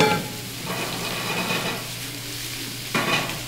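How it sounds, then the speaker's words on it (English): Mushrooms sauteing in a pan give a steady, close, loud sizzle with crackling, punctuated by a couple of stirring scrapes. "here goes those mushrooms we're sauteing right there"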